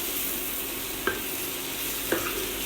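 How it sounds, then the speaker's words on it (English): Vegetables sauté in a pan with a steady, close sizzle, broken by two brief clinks of a utensil against the pan. "I think it's ready to saute."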